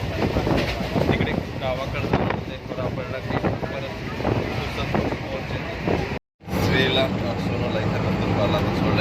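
A crowded Howrah Express train rumbles and rattles along steadily with wind buffeting, while people talk over it throughout; the sound briefly cuts out near the end.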